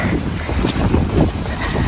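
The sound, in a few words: wind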